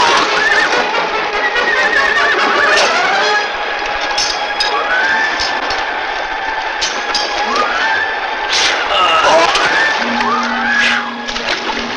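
Horses whinny repeatedly amid the clatter of hooves and metal in a film battle scene set in ancient Rome, with dense, continuous layered noise and rising neighs throughout.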